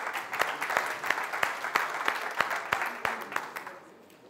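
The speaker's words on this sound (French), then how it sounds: "sous vos applaudissements" Audience at a West African public securities market conference welcomes an official to the podium with applause, a full round of clapping with a few sharp individual claps that gradually thins and fades.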